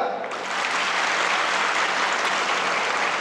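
Women in an audience clap together, a dense, steady wash of applause that fills the whole stretch at close range with no break and no talk over it.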